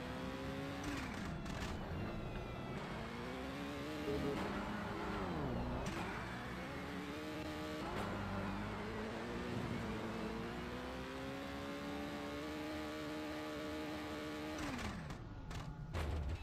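Rally car engines drone and whine steadily through an ice racing event in the Rallisport Challenge video game, pitch climbing and dropping with gear changes, loud and continuous with no talking.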